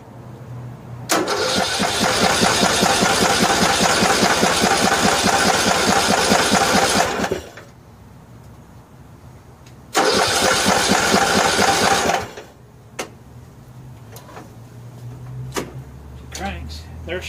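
A Briggs and Stratton 15.5 HP engine on a Troybuilt riding mower cranks in two loud, close bursts, a long one of about six seconds and a shorter one of about two, separated by quiet, with faint clicks afterward.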